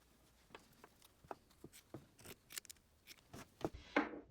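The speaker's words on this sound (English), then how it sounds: "you can trim off this excess" Scissors trim the excess fabric from a sewn seam on a fabric hot pot lid holder, giving a series of crisp, close snips in uneven rhythm that grow louder and quicker toward the end, with no talking.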